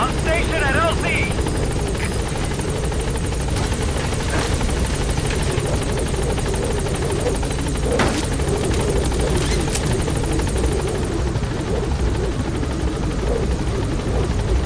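The B-Quad helicopter in Metal Gear Solid V arrives at a landing zone with a loud, steady rotor roar filling the whole stretch, with a radio voice speaking over it and a few sharp clicks in the game's background.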